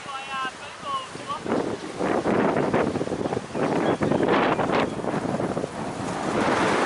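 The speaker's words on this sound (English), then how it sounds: "the wind is still blowing very strong" Strong wind gusting across a cricket ground during a Barclay Shield match between Diamond Creek and Macleod, a loud roaring buffet on the microphone that surges and falls, with a commentator's voice partly audible underneath.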